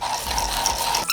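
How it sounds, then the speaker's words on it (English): Coffee beans grinding in an electric grinder beside a siphon coffee maker, a steady close mechanical whir with a rattling, ratchet-like texture that holds for about a second before cutting off. "Beans go into the grinder."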